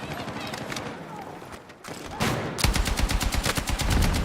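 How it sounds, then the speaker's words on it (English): A light machine gun fires in sustained bursts in a competitive shooter video game. The rapid, loud rattle grows denser toward the end, over busy game noise, with players calling out to each other. "Letting it rip with my LMG over"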